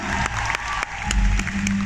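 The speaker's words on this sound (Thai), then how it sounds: "ปรบมืออีกครั้งหนึ่ง" An audience applauding at a variety show, loud, dense clapping with a few sharper individual claps standing out, lasting throughout.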